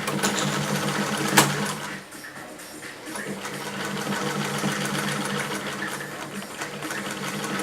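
A Singer 99K sewing machine stitches through four layers of denim, chattering in a fast, even rhythm up close, with a brief slowdown before it speeds up again.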